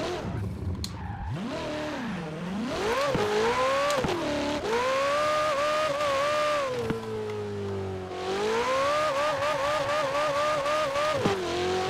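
A 700-horsepower Ferrari 488 Pista in the racing game Forza Horizon 4 revs hard. The engine pitch climbs and drops through repeated gear changes, with a steady, loud, close engine note and brief tire-squeal moments throughout.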